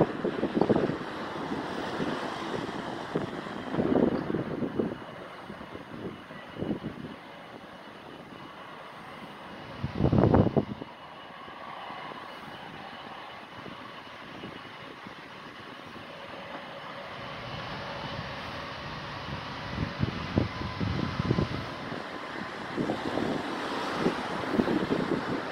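A departing Arajet Boeing 737-800 jet is heard from outside at an airport as a distant, rising and falling roar blended with strong wind buffeting on the microphone, with no voices.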